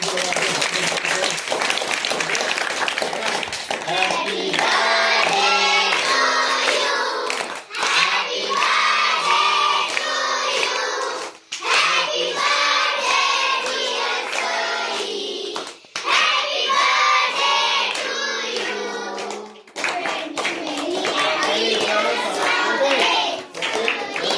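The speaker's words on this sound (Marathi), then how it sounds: "पहा तर सर्वांनी जोरदार टाळ्या" A roomful of schoolchildren claps hard and fast for a fourth-grade classmate's birthday, loud sustained applause with cheering voices that swells in several bursts separated by brief lulls.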